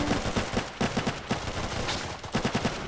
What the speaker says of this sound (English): We got more shots fired.